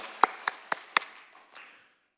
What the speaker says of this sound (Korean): 할렐루야 우리 하나님께 영광의 박수 올려드립니다